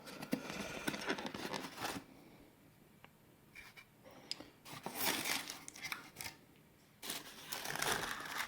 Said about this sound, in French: Voilà, je n'ai plus qu'à la déballer.